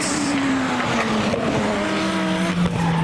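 Drift cars race at a modified car show, tires squealing in a long sustained wail that slowly drops in pitch over loud engine roar.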